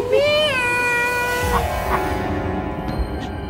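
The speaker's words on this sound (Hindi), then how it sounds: "घर में बिल्ली आ गई है" A cat meows in a long, drawn-out wail, followed by a couple of shorter mews, close and fairly loud over a faint background.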